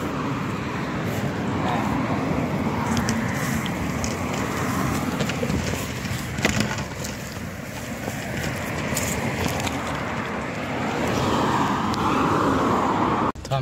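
Steady roar of traffic on a main road in Malaysia, continuous and fairly loud with passing vehicles blending into a broad wash, wind buffeting the microphone.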